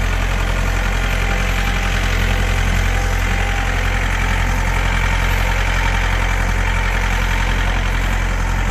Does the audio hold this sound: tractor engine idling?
yes